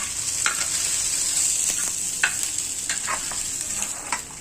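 Goat brain frying in a pan, a bright steady sizzle with scattered sharp clicks and scrapes of a utensil, heard close and without talk.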